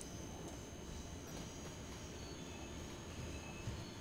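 Heavy freight train hauled by an E186 locomotive in the SimRail game, running from the Staszic coal mine toward Sosnowiec Dąbrówka. Its wheels roll over track and switches with a steady, dense rumble and faint rhythmic clicks, with no talk.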